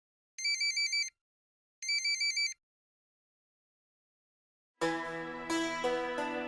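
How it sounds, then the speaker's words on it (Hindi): An electronic phone ringtone sounds twice in short warbling bursts with quiet gaps between, then loud music cuts in, in a Hindi TV serial. "फोन बज रहा है"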